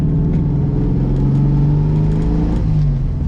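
The small engine of a Gurgel XEF compact car pulls loudly and steadily from close by, a low, buzzy hum that rises slightly in pitch as it accelerates, with no talking over it.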